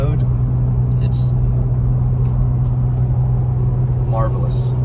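Hyundai Veloster N engine pulling under throttle, a steady loud low drone with strong bass rumble throughout, overlaid by a person talking.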